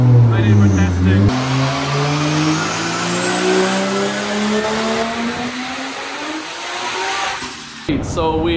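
An 800-horsepower Nissan S15 race car revs hard on a dyno, its engine note climbing steadily in one long loud pull before cutting off abruptly, with a brief voice at the start.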